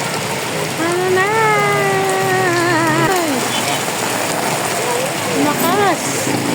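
Dense roar of heavy rain pouring down and building in strength on the road between Cavite and Paranaque, with a person's voice rising and falling over the steady wash.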